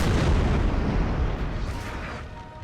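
6-pounder artillery fire in the game Napoleon Total War, one loud booming cannon blast with a rumbling tail that fades over a couple of seconds.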